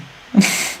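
A single quick sneeze bursts out close and fairly loud after a brief quiet moment, leaving a hissy tail as it fades.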